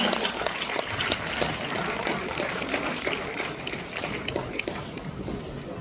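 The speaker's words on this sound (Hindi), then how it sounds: "जोरदार तालियां" Dense, steady clapping from a crowd at an honour ceremony for a top exam achiever in Gaya, Bihar, sustained and fairly loud throughout with no voices standing out.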